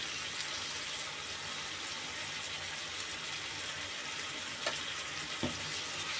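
Onion, tomato and turmeric masala fries steadily in a pan as a continuous close sizzle, with a couple of brief clinks or stirs near the end and no talk.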